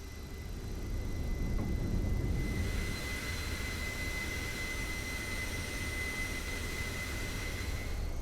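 Steady roar of airliner jet engines on a slow landing approach with flaps and gear extended in a flight simulator game, a constant broadband rush with a faint high whine, moderately loud and unbroken.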